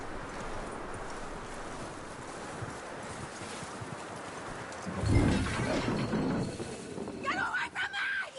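Horse hooves clip-clop at a steady walking pace in Red Dead Redemption 2, over a constant outdoor wind-like background, and a voice cuts in near the end.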